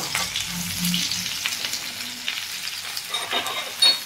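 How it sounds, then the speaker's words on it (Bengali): Sliced bitter gourd sizzles in a pan with salt, a steady close frying hiss broken by occasional stirring scrapes and clinks, with no talking. "এবার আমি এই করলাগুলো দিয়ে ভালো করে ভাজবো।"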